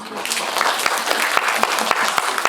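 Audience applause at a Q&A screening event for the Korean film Killing Romance, with the director and lead actress present; brisk, dense clapping from a crowded hall, steady and fairly loud with sharp individual claps standing out.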